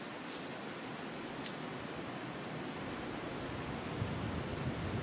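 Steady, broadband outdoor wind rushing without pause, a soft continuous roar from a south wind with gusts around 15, swelling slightly near the end, with no voices.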